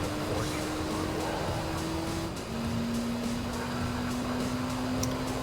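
Race cars in Gran Turismo 3 arcade mode drone steadily, one engine note holding, dropping at a gear shift and then climbing again, loud and constant without a break.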